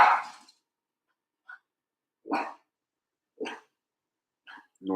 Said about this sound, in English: My dog heard something at the door.